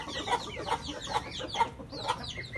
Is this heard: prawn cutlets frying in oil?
no